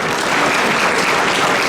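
Loud, continuous clapping comes from an audience honouring Community Services Award recipients at a Lunar New Year celebration, dense and unbroken throughout.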